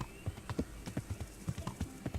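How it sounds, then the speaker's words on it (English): Horse hooves clip-clop steadily while riding in the medieval game Kingdom Come: Deliverance, a close, regular stream of hoofbeats at a trotting pace with no voices over them. "At least I have my horse."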